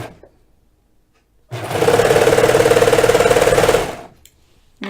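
A sewing machine stitches a sweater seam in one steady, rapid run of needle strokes lasting about two and a half seconds, close and loud, with quiet before and after.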